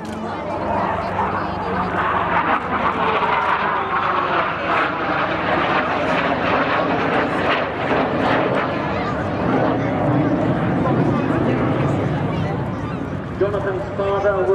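An aerobatic aircraft at the Sunderland Air Show makes a continuous, loud engine drone, with a commentator talking over the public address throughout.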